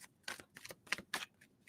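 A tarot card deck is shuffled up close, giving a series of quick riffling and flicking bursts in an uneven rhythm, quiet and without talk.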